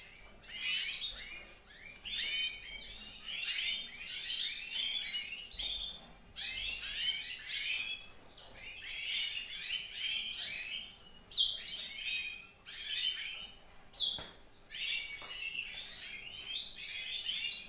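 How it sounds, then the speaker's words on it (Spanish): Small birds in a breeding cage chirp and twitter in rapid, busy bursts, close and lively, with short pauses between phrases over a quiet room hum and no talking. "Ahora os haré un paso para que veáis cómo están los pájaros"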